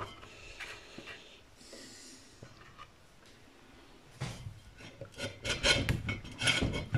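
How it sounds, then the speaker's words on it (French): A wood knife scrapes sticky old glue and perished foam from a hi-fi speaker's basket during a suspension replacement, a faint, close rasping that grows louder and more rapid in the final seconds. "un couteau à bois, c'est pas mal pour enlever le surplus qui est collé dans le saladier"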